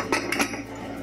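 Metal clinks and clatter of a pressure cooker lid being set on the pot while making tomato rice, a few bright knocks near at hand, then a quieter rattle.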